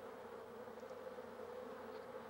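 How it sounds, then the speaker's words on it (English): A steady, low droning hum of many bees fanning their wings, continuous and fairly faint, with no voices. "Vigorous fanning of the wings produces currents of air"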